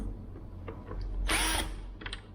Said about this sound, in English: there's actually 4 Torx screws over here, which you can remove, which I will go ahead to remove